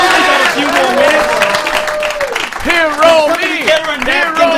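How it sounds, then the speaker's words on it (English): A studio audience on a radio show applauds steadily for a guest, with continuous loud clapping mixed with cheering and voices throughout. "Give her a big round of applause."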